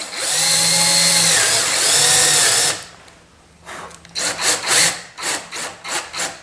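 A power drill spins up and bores into material while fitted with a depth stop set for a half-inch depth, running loud and steady for several seconds, then giving a series of short rhythmic bursts.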